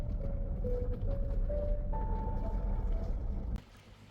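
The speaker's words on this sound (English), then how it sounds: "We board the speedboat and soon depart for the Yongala wreck" A speedboat under way off the Queensland coast near the SS Yongala wreck in calm, sunny seas, its engine a steady loud low drone with wind and water rush throughout, then dropping abruptly near the end.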